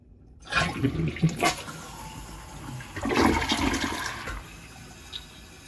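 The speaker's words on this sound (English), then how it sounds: "Now that the toilet's filled up, let's see how it flushes." A toilet flushes after its tank has refilled, with a loud rushing surge of water early on and a second swell of gurgling flow midway, then tapering off; no one speaks.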